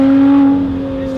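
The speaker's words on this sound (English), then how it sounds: "that exhaust note is just unbelievable" Exhaust note of a Lotus Exige Sport 380 on the move, a loud, steady tonal engine drone held at a constant pitch that eases slightly toward the end.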